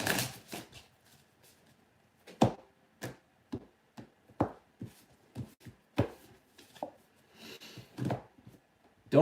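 A tarot deck being shuffled and handled to draw a single card: a run of sharp, close riffling snaps and taps of varying loudness with quiet gaps between them, no voice.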